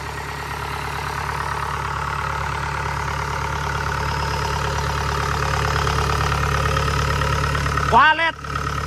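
A Kubota DC70 combine harvester engine idles close and steady with an even, throbbing rumble, briefly disturbed by a short clatter near the end.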